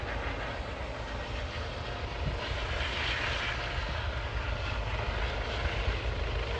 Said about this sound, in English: The old helicopter there coming through.